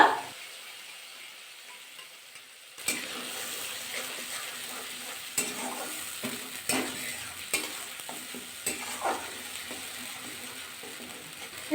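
Cauliflower frying in a pan with ground spice paste for a vegetarian Bengali dish, a steady soft sizzle with scraping stir strokes and clicks growing busier after a quiet start, close and alone.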